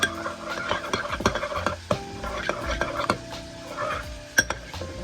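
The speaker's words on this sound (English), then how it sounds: "I'm just gonna mix this up." Sriracha sauce is mixed in a bowl while cooking a salmon dinner. Quick, irregular clinks and scrapes of a utensil against the bowl come close up, with small sharp knocks in between.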